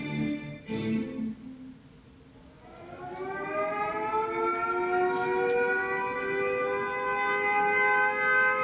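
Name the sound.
air raid siren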